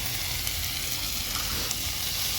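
Manathakkali greens sautéing with tamarind in a pan, a steady soft sizzle and hiss throughout with faint stirring, no voices.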